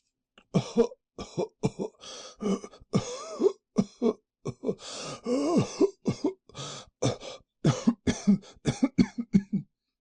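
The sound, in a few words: cough performed in audiobook reading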